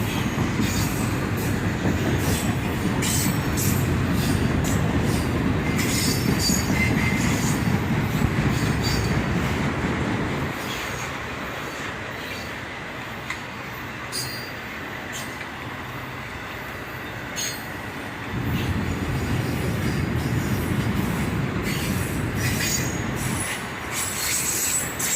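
Freight train of auto rack cars heading out of town, with squealing wheels: a loud, continuous rumble and clatter of cars passing close by, with high metallic wheel squeals throughout, easing in the middle and then swelling again, with no voices.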